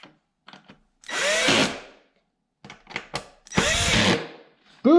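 A power drill whirs in two short bursts of about a second each, close and loud, separated by clicks and light handling noises while a vacuum cleaner with a bad bearing is reassembled.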